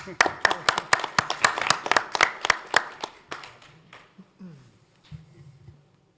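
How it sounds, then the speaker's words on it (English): A small audience at a board of supervisors' meeting claps in a brief burst of quick, sharp claps that thins out after about three seconds, followed by quieter room noise and people talking. "let's give him a round of applause"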